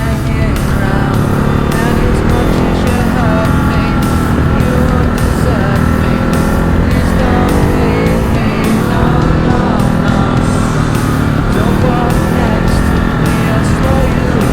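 A 2024 Ducati Hypermotard 950 SP engine drones steadily and loudly throughout while riding at speed, with a continuous rumbling tone, shifting revs and wind noise and no clear pauses.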